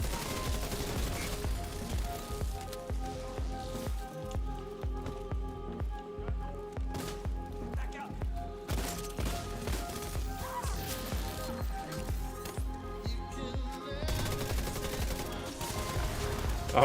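Dense gunfire in The Division 2 as shots pour onto enemy turrets, a steady rattling barrage of rapid bursts running the whole stretch over a game soundtrack, with little let-up.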